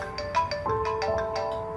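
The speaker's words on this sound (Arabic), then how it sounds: "ياسمين على التليفون. إيه ردي" A telephone ringtone plays as a steady electronic melody of repeating beeps in a domestic drama scene, clear and moderately loud with no talk over it.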